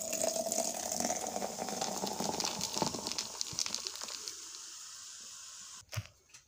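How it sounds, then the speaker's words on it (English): Cream soda poured over ice and butterscotch in a cup, a steady fizzing, gushing pour running close and continuous for several seconds before cutting off, followed by one brief clunk. "Pour some cream soda in here."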